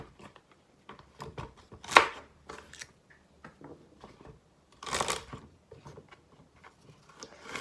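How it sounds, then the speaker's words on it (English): Celery, carrots and an onion chopped with a knife on a cutting board, sharp irregular chops and taps with pauses between bursts, close and fairly quiet, no talking. "I've got 2 celery, 2 carrots, and a whole onion. And that's just what we need to chop up."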